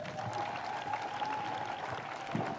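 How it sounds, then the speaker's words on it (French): Guests at a civil wedding applaud in a steady, moderately distant patter that runs throughout, with a faint sustained tone and a murmur of voices underneath. "Applaudissez, s'il vous plaît."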